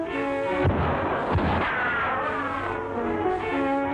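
A single sharp gunshot goes off unexpectedly in an old Western television episode, a loud crack at the start followed by a second thump, over a bed of orchestral music.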